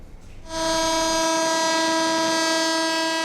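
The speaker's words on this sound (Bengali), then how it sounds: "লম্বা হুইসেল বাজিয়ে ইট কাঠ আর যান্ত্রিক জীবন থেকে একটু বিরতি নিতে ছুটে চলেছে ট্রেন" A passenger train leaving the capital during Eid travel sounds a long, loud horn that starts abruptly and holds steady to the end, with rail noise faintly underneath.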